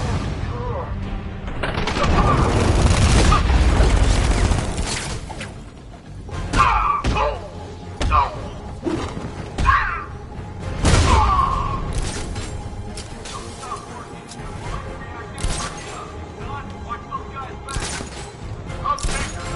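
Explosions and bursts of gunfire in the Arkham Knight video game, a loud rumbling blast early on followed by repeated sharp impacts and crashes, with voices and a game soundtrack underneath.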